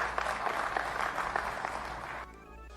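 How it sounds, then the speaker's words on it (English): Scattered, thin applause from a sparse audience at a Morehouse event, a few claps rising briefly over a noisy room before cutting off abruptly near the end. "He got a smattering of applause"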